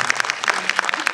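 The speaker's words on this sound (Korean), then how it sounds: "박수를 한번 주시죠" An audience at a film screening Q&A gives a short burst of clapping, a few distinct close, loud claps spaced unevenly rather than a dense roar.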